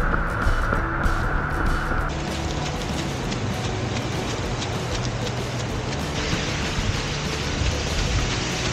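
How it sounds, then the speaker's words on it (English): Heavy rain during a long training run, a dense, loud, continuous hiss of downpour with steady patter throughout and no talk. "Now it's heavy rain again."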